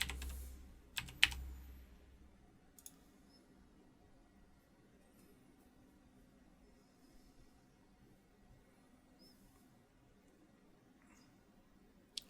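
Soft typing of a user account password on a computer keyboard: a brief run of clicky keystrokes near the start, then long near-silence with a faint low hum and an occasional isolated tap.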